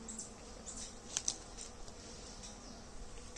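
Honeybees buzz faintly around a hive while nucs are moved into brood boxes, a quiet steady hum with a few brief louder passes near the middle.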